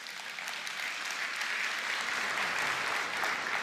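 A large keynote audience at Microsoft Build 2023 breaks into sustained applause, a dense, even wash of clapping that holds steady for several seconds with no voices above it.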